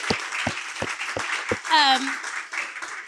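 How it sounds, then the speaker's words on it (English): A brief burst of audience applause at a luncheon rises over ongoing speech, with a few sharp, evenly spaced claps standing out near the start. "Let's give Gwendolyn a round of applause"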